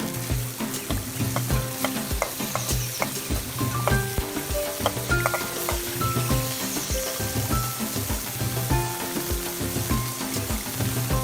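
Garlic frying in hot oil in a village kitchen, a loud continuous sizzle and crackle up close with repeated rhythmic stirring scrapes throughout, and no talking.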